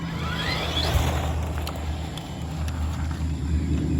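A Tamiya Mercedes-Benz 190E 2.5-16 Evo2 on a modified TT-01 chassis, a light two-wheel-drive RC car with a 550 motor, drives with a faint steady whine and a low hum, heard at a distance with no talking.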